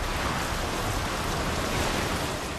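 Rain in the video game BioShock Infinite, a steady even hiss of falling water that holds constant without pauses, with no voices heard.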